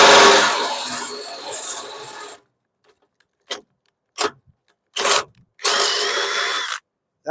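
A power drill bores into mailbox material: a long whining cut, then several short separate bursts of drilling and a final sustained run, with silent gaps between them.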